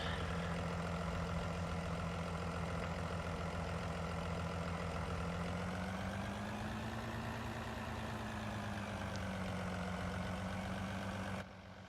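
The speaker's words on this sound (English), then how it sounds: "So I'll just bring the harvester up here now." A potato harvester drives along in a farming video game, giving a steady, loud engine drone with a low hum that rises and falls gently in pitch as it moves, then drops off slightly at the end.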